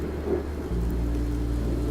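Steady rain with a low rumble of thunder in the background, a continuous wash of sound that deepens partway through as the rumble grows heavier.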